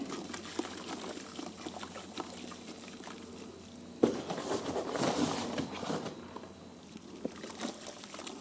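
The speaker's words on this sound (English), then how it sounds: "Sprinkling the plaster again." Soft, uneven pouring and fizzing of plaster powder sprinkled into water in a ceramics workshop, low and close, getting busier halfway through, with no talking.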